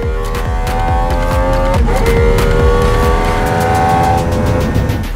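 Hypercars, including a GMA T.50, lapping the Yas Marina circuit flat out at a track day, with loud, continuous engine howls, rising and falling revs, and overlapping passes from several cars close by.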